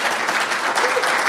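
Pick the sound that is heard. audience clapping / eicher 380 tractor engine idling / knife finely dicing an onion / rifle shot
audience clapping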